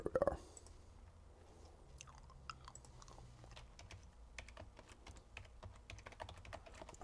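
A computer keyboard clicks in a quick, irregular run of keystrokes during a login, faint and close, with a brief louder noise at the start and no speech.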